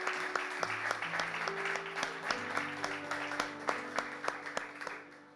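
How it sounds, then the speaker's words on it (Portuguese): A church congregation claps during a live worship service, steady applause with rhythmic clapping over sustained organ or keyboard chords, moderately loud throughout. "Vamos aplaudir ao Senhor."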